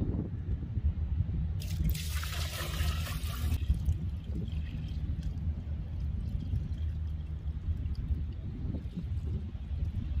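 Clear water poured off settled clay made from road mud, a broad liquid rush and splash that is loudest early and then settles into a steady low wash and dribble, with no voices.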